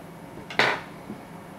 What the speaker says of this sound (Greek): Κόβουμε την ελεύθερη άκρη.